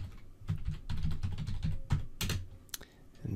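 Rapid keystrokes on a computer keyboard as a password is entered while setting up SNMP on a Cisco switch, a close, uneven run of clicks with a few louder taps.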